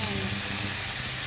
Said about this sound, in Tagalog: So, ngayon, una natin ilalagay is yung ating hinihiwa na karne.